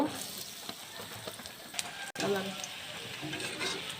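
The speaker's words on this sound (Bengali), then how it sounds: "এই দেখুন প্রথম তেল দিয়ে দিলাম এবার পেঁয়াজ কুচি দিয়ে দেব" Chopped onions go into hot oil for a hilsa and greens curry, giving a broadband sizzle with stirring scrapes and a sudden burst after a brief gap midway, loud and steady throughout.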